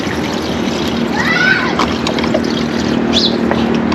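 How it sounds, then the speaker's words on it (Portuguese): Water poured into a small bowl during home cooking, a steady splashing trickle over a constant background hum, with faint chirping sounds above it. "Coloco aqui a água."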